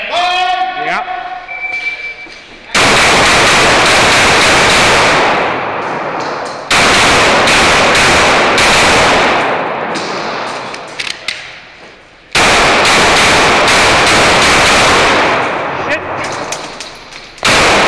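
Rapid bursts of gunfire at a competitive shooting match, three long loud volleys of closely spaced shots separated by short pauses, with brief talk at the start.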